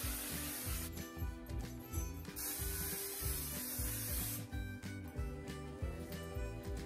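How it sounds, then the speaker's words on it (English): Hairspray hisses from a can onto hair styled in an easy updo, giving faint airy spray bursts over a low, steady rhythmic hum. "Use some of that hairspray."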